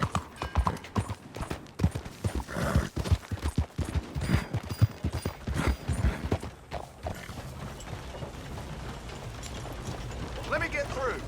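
Horse hooves clopping on ground in the Red Dead Redemption 2 video game, a steady close rhythm of hoofbeats amid town bustle, with voices talking over much of it.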